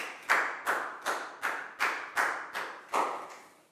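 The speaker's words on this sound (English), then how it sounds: "Big round of applause for Bangpon," Young pupils in a primary school maths class clap together for a classmate, eight or so evenly spaced unison claps in a steady rhythm, each with a sharp onset and quick decay.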